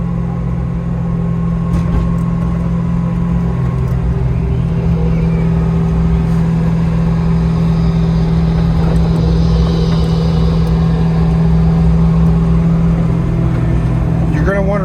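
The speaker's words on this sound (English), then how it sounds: "we are going to get it out on the open road so you can hear the turbos" A 1985 Ford Mustang GT with a twin-turbo 5.0 engine and six-speed drives on an open road, its steady droning engine hum and road rumble loud and continuous, heard from inside the car.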